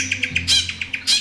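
A male bowerbird in an Australian forest calls while mimicking other sounds: a quick series of short chirps broken by two louder, buzzier bursts, close and clear with no talking.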